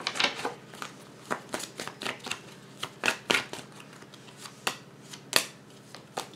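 Tarot cards are shuffled and drawn, producing a rapid series of crisp riffling snaps and flicks close by, irregular in rhythm, with no talking over them.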